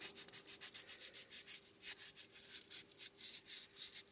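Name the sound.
sanding an upcycled bracelet with old sandpaper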